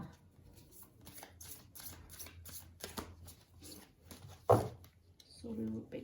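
Tarot cards being shuffled by hand, a rapid series of soft riffling flicks and slaps with a louder thump near the end, close by, while a person talks over them.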